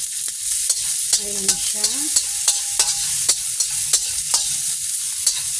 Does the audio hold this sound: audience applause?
no